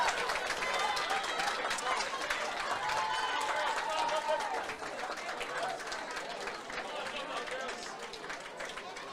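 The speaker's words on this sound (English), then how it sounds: "a round of applause for the team after that terrific first half performance" A crowd at a Dublin versus Meath Leinster ladies minor football final applauds the Dublin team, scattered clapping and cheering heard at a distance beneath an announcer's voice.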